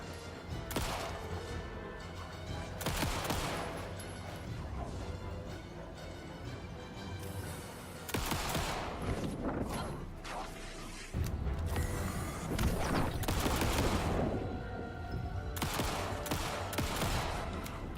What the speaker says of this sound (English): Okay, automatic fire.